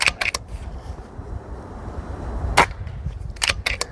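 A RAW HM1000 Micro Hunter air rifle fires in an outdoor field target setting, with sharp, close cracks and clicks standing out over steady wind noise.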